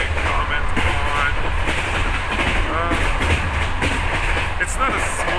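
A cheap passenger train to Kutaisi, Georgia rolls steadily along the rails, a loud continuous rumble with rhythmic clatter and faint squeals, while people talk over it.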